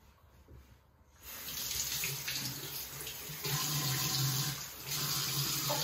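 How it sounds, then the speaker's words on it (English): A bathroom tap runs into a sink with lukewarm water for face splashing: quiet at first, then a steady close gush that continues to the end with small shifts in flow. "first I'm going to be splashing my face with lukewarm water"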